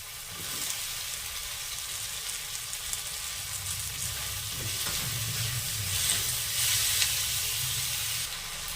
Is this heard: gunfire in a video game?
no